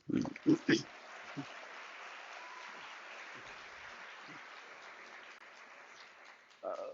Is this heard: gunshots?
no